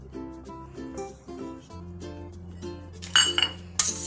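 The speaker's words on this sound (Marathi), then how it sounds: "विस्करने छान मिक्स करून घ्यायचं। एकाच दिशेने फिरवायचं।" Cupcake batter is whisked round in a bowl, giving a steady run of soft scraping strokes with a few sharp metallic clinks near the end.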